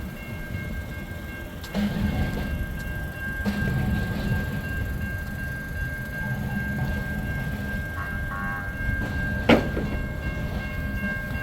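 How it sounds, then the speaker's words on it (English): A trolley rumbles steadily nearby at a bus station in San Ysidro, California, with a sustained tonal hum, a couple of clanks, and a sharp brief squeal near the end. "Train or trolley's coming."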